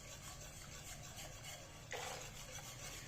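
Custard with lachcha semai being stirred continuously in a pot, a soft steady scraping and rubbing that runs throughout, turning slightly louder and brighter near the end.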